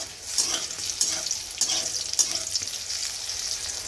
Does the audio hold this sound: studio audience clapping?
no